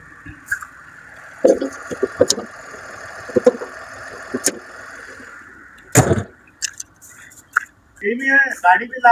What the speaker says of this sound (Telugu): ఇంజన్ చూసుకున్నట్టయితే చాలా సైలెంట్ ఉందండి